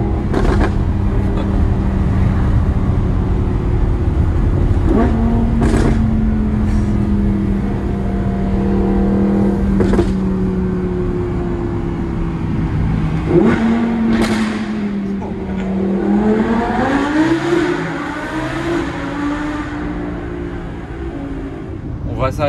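An Audi R8 V10 with 670 hp drives through a tunnel, its engine droning loud and steady, then rising in pitch as it accelerates, while people talk inside the car.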